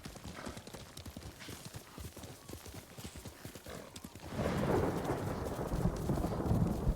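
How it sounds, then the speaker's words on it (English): Heavy thunder with rain: a rhythmic clopping patter gives way, about two-thirds through, to a loud, broad rolling rumble that carries on to the end. "God, the sound of this thunder is biblical."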